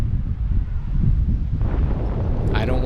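Wind gusts rush past a microphone as a paraglider on a Susi 16m mini wing descends over treetops near Chamonix, France, with the wind nearly perpendicular to the trees; a steady, loud roar fills the clip, with a brief higher hiss near the end.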